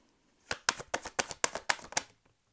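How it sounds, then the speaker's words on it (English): A deck of tarot cards being shuffled in a quick run of about eight crisp riffling bursts, close and clear, with no talking over it. "I shuffled for quite a while I was talking."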